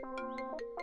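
A phone rings with a tonal electronic ringtone, short repeating melodic pulses that sound clear and steady with no speech over them.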